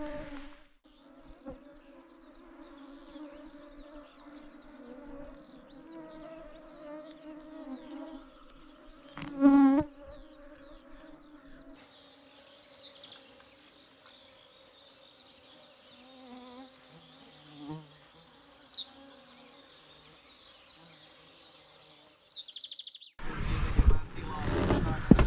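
Mosquitoes whine and buzz close by in spring woodland during a roe deer hunt, with a thin persistent drone rising and falling across the stretch, a brief louder burst near the middle, and faint rustling toward the end.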